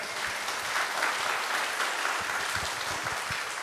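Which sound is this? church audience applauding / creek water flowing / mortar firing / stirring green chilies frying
church audience applauding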